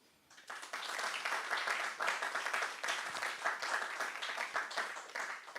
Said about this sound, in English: So I'm asking another round of applause for everybody in this room.